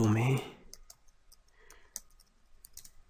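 Keys on a computer keyboard clicking while typing into Notepad, a few sparse, light keystrokes spread out after a brief moment of speech.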